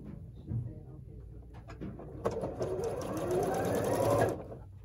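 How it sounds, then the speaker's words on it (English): A sewing machine whirs into a steady run of stitching for a couple of seconds, close up, after some brief handling noises. "get this out of my sewing machine"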